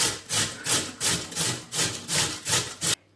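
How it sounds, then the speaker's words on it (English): Cucumber rubbed against a large grater makes about eight rhythmic, rasping strokes close up, each a loud scrape with a short pause between, then stops abruptly. "I've got a large grater and I'm just going to give that a grate"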